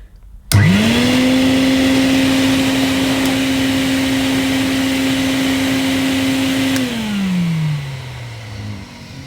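Hoover Constellation Model 862 vacuum cleaner switches on with a sharp start, then runs with a steady motor whine for about six seconds before spinning down as it is switched off, close and loud with no talk.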